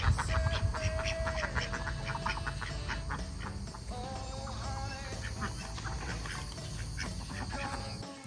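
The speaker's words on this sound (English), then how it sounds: "We have ducks over here." Ducks quack repeatedly over a busy, noisy outdoor background, their calls overlapping in bursts throughout.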